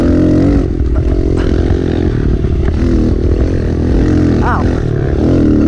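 A motorcycle ridden through snow roars loud and close, its engine droning with wavering revs, a short rise in pitch midway and faint scraping, with speech-like sounds mixed in.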